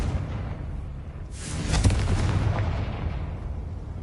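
A Confringo blasting curse in Hogwarts Legacy sets off a single loud fiery explosion midway, a sharp burst followed by a rumbling blast that lingers and fades, with no talk.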